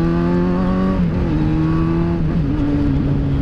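A white Kawasaki Z800 motorcycle engine roars steadily nearby, its loud exhaust tone dipping and shifting pitch a couple of times as the rider works the throttle, with no talk over it.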